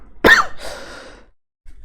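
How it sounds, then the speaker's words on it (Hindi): A single short, forceful throat clearing close by, followed by a brief rasping exhale and then quiet. "अब गला साफ करना पड़ेगा"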